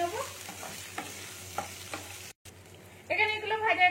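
Chopped green chilies and ginger fry in a pan with a soft, steady sizzle, while a spoon scrapes and stirs in several distinct strokes close up, quiet and with no talking.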